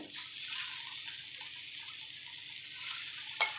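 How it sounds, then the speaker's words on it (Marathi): Malvani-style tawa chicken pieces fry in two spoons of hot oil on a heated tawa, giving a steady close hiss and crackle with a brief sharper clatter near the end. "चिकनचा पीस असा तव्यावर ठेवणार आहे"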